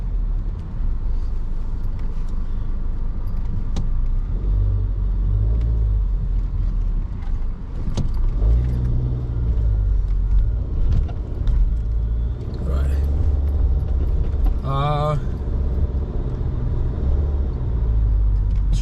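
A Jeep on a morning commute in the DMV area, heard from inside as a heavy, steady engine and road rumble with passing traffic, a brief hiss like an air brake, and voice-like sounds at times.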